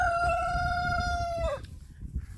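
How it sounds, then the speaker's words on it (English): A rooster crows once, loud and close, its long call breaking off abruptly, followed by quiet soft clucking in the background. "I need to get all the chickens from inside the coop"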